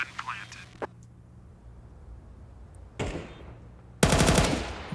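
Tec-9 pistol fire in a Counter-Strike esports match, with a few sharp isolated shots followed by a loud rapid burst near the end, while a caster talks in between.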